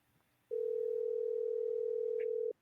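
A telephone line tone while a call is being placed: one steady, unbroken electronic tone that sounds clearly for about two seconds, alone, after a short quiet start.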